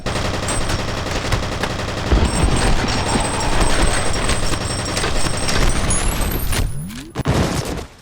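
Dense, continuous automatic gunfire from the F.E.A.R. shooter game, loud and close, with rapid bursts and booming impacts layered throughout before a brief drop near the end.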